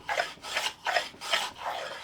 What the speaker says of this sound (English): so I'm going to come in with the smoother now